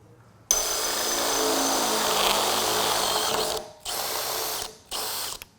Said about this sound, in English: you need to be able to drill a hole through this point here to do the final assembly